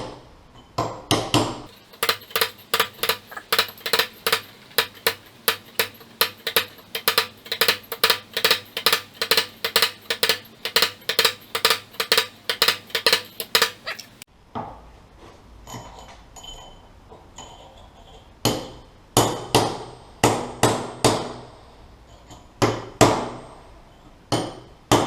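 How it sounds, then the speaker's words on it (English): A hand hammer strikes a Honda S2000 gearbox part in a long, steady run of sharp metallic blows. After a short pause, several more loud, uneven hits follow, close and ringing, with no talking. "I think hammer and hand will be better, easier."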